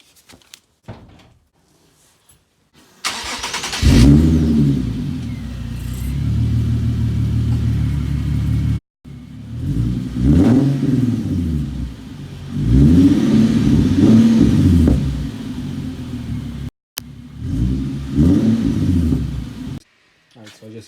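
A Nissan 370Z with its mufflers removed starts after a door thump, then revs loudly in several rising and falling bursts with idle rumble between them, recorded close to the exhaust.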